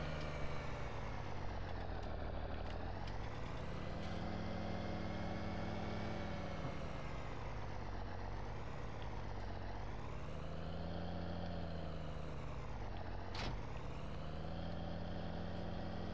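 The engine of an MX-285 tractor in Farming Simulator 19 drones steadily while driving, its pitch rising and falling as it speeds up and slows, loud and continuous with no voices.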